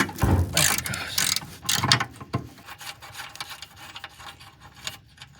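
Pneumatic impact wrench rattling bolts loose from the cross member of a 1969 Chevelle in a garage, loud bursts of hammering in the first two seconds and then a quieter ratcheting clatter.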